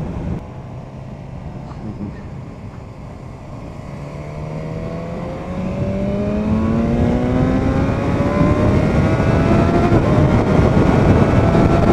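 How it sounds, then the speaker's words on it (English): A 2017 BMW S1000R motorcycle with an Akrapovic exhaust accelerates on the road, its engine pitch climbing steadily through long pulls. The loud exhaust rises over wind noise with no talk. "So that's the Akrapovic exhaust anyway, what I was showing you earlier."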